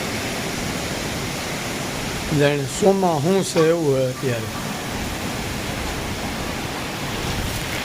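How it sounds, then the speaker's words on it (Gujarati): Heavy rain pours down in the village of Khokharda, with water running through the streets, making a steady, loud hiss throughout while someone speaks briefly in the middle. "અને બજારોમાં પાણી પણ એટલા હાલવા માંડે, એવો વરસાદ આવવા માંડે."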